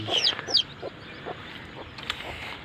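Chickens on a backyard farm where chicks are hatching give a few faint clucks and squawks in a quiet outdoor setting, with brief sharp calls early on and softer scattered clucking after.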